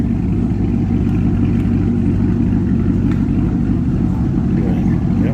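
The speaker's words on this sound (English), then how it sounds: "Listen to that nice rumble." A car engine rumbles steadily at a low, deep pitch, close and continuous without revving, alone with no voices.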